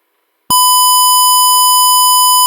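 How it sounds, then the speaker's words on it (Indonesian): A loud, continuous electronic beep from a helmet's drowsy-rider alarm buzzer switches on abruptly and holds a steady tone, with a brief murmur of voice beneath it. "dia itu bakalan bunyi alarm si buzzernya"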